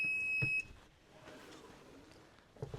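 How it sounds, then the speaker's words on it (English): A heat press timer sounds a steady high electronic beep for about half a second, close and clear, followed by low room noise and faint handling clicks. "Okay, pressing it down and then starting the timer."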